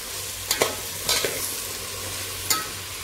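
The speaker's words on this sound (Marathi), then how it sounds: "आता ही भाजी अशी मसाल्यामध्ये फ्राय करून घ्यायची।" Mixed vegetables, including beans, fry in masala and oil for a Sankranti bhogi bhaji, with a steady sizzle broken by a few loud stirring scrapes of the spoon against the pan.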